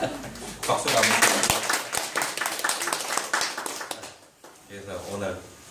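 Audience applause in a lecture hall during a Korean lecture on astronomy, a dense run of many hands clapping that swells, then thins and fades out near the end.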